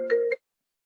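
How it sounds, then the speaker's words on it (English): A phone ringing with a short two-part electronic chime, bright and fairly close, stopping abruptly after less than half a second and followed by silence. "Sorry, the phone rang"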